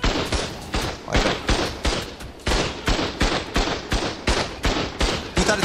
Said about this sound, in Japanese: 撃たれてる、撃たれてる。